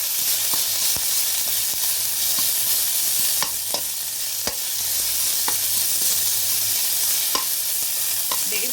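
Methi and purina leaves frying in oil in a pan for chutney, a continuous bright sizzle with scattered crackles and occasional stirring clicks, close and steady.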